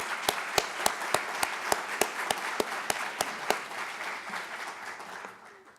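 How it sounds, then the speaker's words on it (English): Audience applause at a campus event on Israel and Palestine, a dense wash of clapping punctuated by sharp, regular nearby claps that stop partway before the crowd's applause fades out. "Let's give Doug a round of applause"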